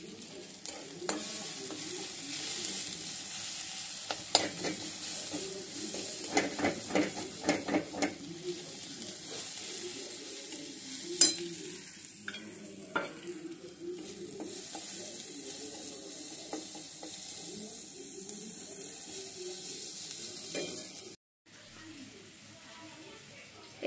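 Vegetables — stalks, potato and flat beans — frying in a pan tempered with nigella and fenugreek seeds give a steady low sizzle with occasional stirring scrapes, heard throughout at moderate level.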